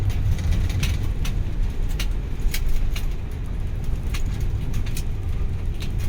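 A camper van meets another camper van on a narrow Spanish road, with a loud steady engine and tyre rumble close by and no speech.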